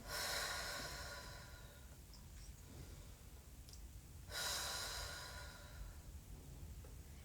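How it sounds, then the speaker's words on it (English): A slow, deep breath during a yoga warm-up with hands on the shoulders, a long airy inhale followed by a second full breath, close and quiet with no talking. "Big inhale."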